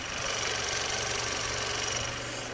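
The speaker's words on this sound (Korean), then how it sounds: "굉장히 정숙하고 규칙적인 엔진 사운드 들려주고 있고요" A Chevrolet Malibu engine idles steadily and evenly with the hood open, a smooth low hum heard up close with no voices.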